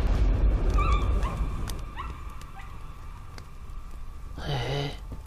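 A dog whimpers and yips in the Layers of Fear horror video game, with several high whining cries early on and a louder yelp near the end over a rumbling, eerie background.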